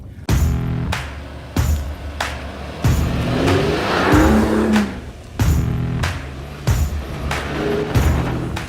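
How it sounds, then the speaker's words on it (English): A Mercedes-Benz GLE-Class crawls off-road over stones at about 6 km/h, its engine note swelling and easing in repeated surges with tyre crunch and rumble, loud and close with no talking. "the car just goes steady at 6 kph"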